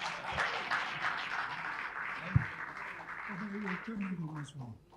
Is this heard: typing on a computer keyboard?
no